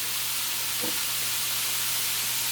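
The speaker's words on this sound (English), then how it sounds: "So this is being seared right now." Ground beef searing in a pot for chili, a steady broad sizzle and hiss heard close and alone, with a brief stir or scrape near the start.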